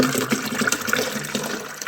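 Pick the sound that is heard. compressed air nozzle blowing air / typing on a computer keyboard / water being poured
water being poured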